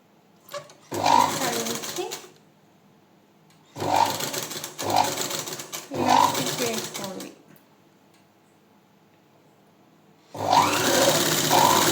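A sewing machine with a normal presser foot stitches thread piping in four short runs, loud and close, buzzing rapidly between pauses while a person talks quietly during the gaps.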